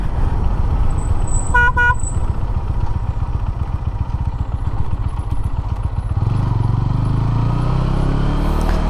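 A motorcycle fitted with an upgraded pop horn idles loudly with a steady rapid engine throb, and the horn sounds in two short bright toots early on before the engine revs up.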